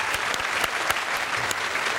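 Studio audience at a comedy panel show clapping, a dense burst of applause with sharp individual claps standing out, loud and sustained for the whole moment.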